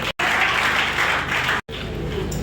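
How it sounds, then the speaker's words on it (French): At a political gathering, an audience applauds the women who asked questions, loud dense clapping broken by two abrupt brief cuts in the sound. "Je voudrais qu'on applaudisse toutes les femmes qui ont posé des questions."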